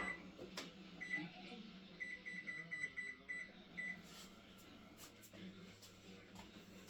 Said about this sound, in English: Set my timer for 7 minutes.